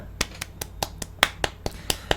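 Around ten sharp hand claps from one person, close and evenly spaced, each a crisp isolated crack with nothing else heard.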